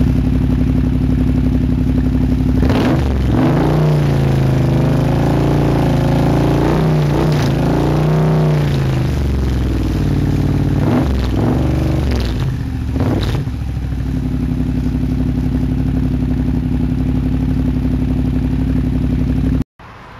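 An Aprilia Mana 850 GT motorcycle with a Leo Vince exhaust idles, then revs up and down through the gears repeatedly, rising and falling in pitch through several bursts before settling back to a steady idle.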